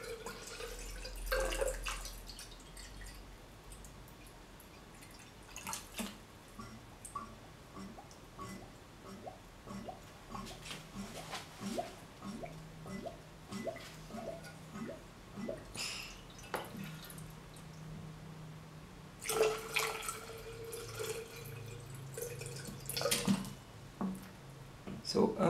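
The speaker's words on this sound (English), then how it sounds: "As I'm pouring, I'm watching the level of water inside this pipe" Water poured into a vacuum pot still, heard as soft trickles and a run of small drips and splashes spaced through the clip, with someone talking quietly between them.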